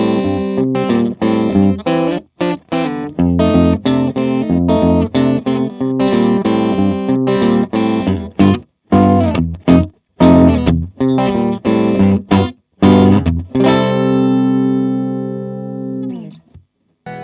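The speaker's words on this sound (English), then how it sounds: "the same settings and softer picking give me transparent clean sound with some compression." Electric guitar through an AMT V1 preamp on a clean compressed setting, softly picked chords and single notes in a busy rhythm with short gaps, ending on a ringing chord that slowly fades.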